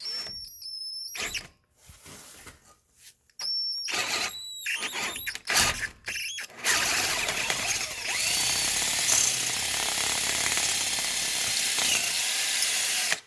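A 27/64 drill bit bores through metal on a 2006 Subaru Forester's suspension parts, opening with stuttering bursts and brief gaps before settling into a steady, loud grinding whine that holds to the end.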